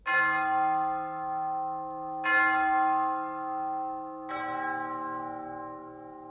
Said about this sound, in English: Then there are spine-chilling funeral bells.